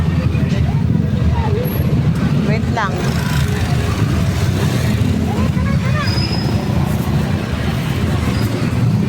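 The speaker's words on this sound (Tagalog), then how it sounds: "Kasi nasa kalsada kami. Dami sasakyan." Busy roadside traffic near a meat market in Catmon, with cars and motorcycles passing in a steady dense rumble, loud and close, while people talk over it.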